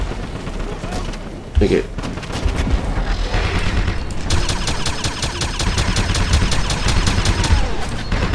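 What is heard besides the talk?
big machine gun firing in Wolfenstein (2009) video game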